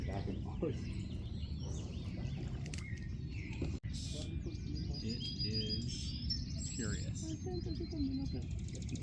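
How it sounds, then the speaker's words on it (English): Birds chirp and tweet in a Mexico City morning, the calls scattered over a dense outdoor background with a muffled voice in the mix. "All the birds are waking up."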